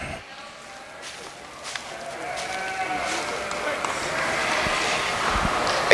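A fall ram at a sheep show bleats amid steady wind and outdoor crowd noise, the calls fairly distant and partly masked, with people talking in the background.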